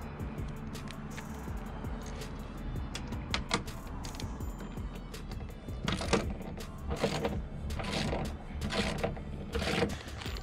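Screws being tightened on a DIY Livescope fishing pole mount, giving repeated clicking, ratcheting mechanical sounds close by over a steady low background, with sharper bursts toward the end.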